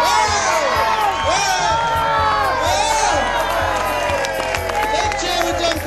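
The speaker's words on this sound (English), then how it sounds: "Big cheer with Duncan" At the 2007 Scottish Six Days Trial demo, a crowd cheers trials rider Duncan Shaw with a continuous roar of shouts, whoops and high children's cries, loud and close, with voices mixed in.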